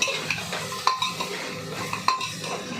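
Two chicken leg pieces being stirred in a pan over low heat with turmeric, a spoon scraping and tapping the metal in a few close, repeated strokes under a faint sizzle.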